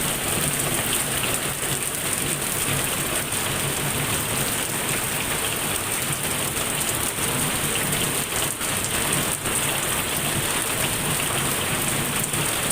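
Heavy rain pours down in a dense, steady roar, loud and unbroken throughout with no voices.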